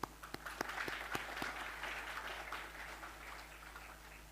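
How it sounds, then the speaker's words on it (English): A small audience at the launch of an ESG framework for infrastructure financing in Indonesia claps, a few sharp individual claps at first, then a soft, steady patter that gradually fades, heard faintly over a low hum. "Let's give it a applause."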